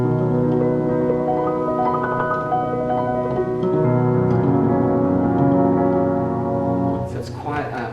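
Fortepiano played with the una corda pedal so only one string sounds per note, giving soft sustained chords and melodic lines at moderate volume in a homestead performance setting, with no talking.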